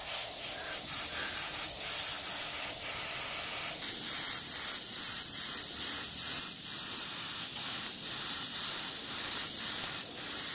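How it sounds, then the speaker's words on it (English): Steady airbrush hiss of paint spraying onto a masked tumbler, continuous and fairly close, with faint pulsing variations throughout and no talking. "All masked up, ready to spray."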